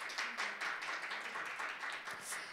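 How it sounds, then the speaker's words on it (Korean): An audience at a startup open innovation agreement ceremony gives brief, faint clapping, a short patter of hands heard at a distance. "다시 한번 큰 박수 부탁드립니다."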